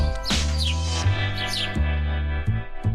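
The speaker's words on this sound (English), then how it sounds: "The bird is singing so sweetly." Bright chirping bird calls sit over a steady, loud musical backing with a deep repeating bass pattern.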